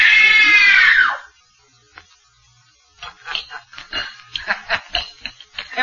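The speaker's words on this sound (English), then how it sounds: "Scream for your life!" A woman screams in a King Kong audio drama record, one long loud high-pitched shriek that rises and then falls away, followed by a pause and then rapid clicking and tapping bursts.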